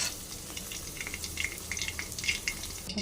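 Soybean chunks fry in hot oil for a wedding-style chilli paneer and soybean dish, producing a brief, steady crackling sizzle with light popping, close and uninterrupted by voices.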